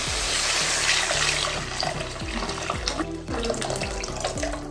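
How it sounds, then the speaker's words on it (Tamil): Tamarind water pours into a pan of rasam with tomatoes cooking, a steady close splashing rush with small gurgling pulses running throughout, no talking. "இப்போ புளியெல்லாம் ஊற்றியாச்சு."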